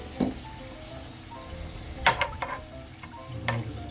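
Creamy garlic chicken is stirred in a pan. A soft, steady sizzle runs throughout, with a few sharp utensil clicks and taps against the pan.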